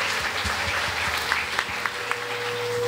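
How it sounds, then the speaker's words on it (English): A packed hall at a church cultural evening fills with dense, steady applause from a large audience, with a few sharper claps and a faint sustained tone near the end. "Let us give God and each one a mighty clap."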